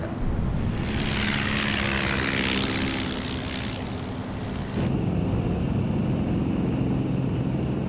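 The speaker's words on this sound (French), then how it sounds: "21 bombardiers torpédos décollent d'un porte-avions" Propeller-driven World War II torpedo bombers taking off from an aircraft carrier, a loud continuous engine roar with a rising whine, steady and near with no talk, shifting to a duller rumble partway through.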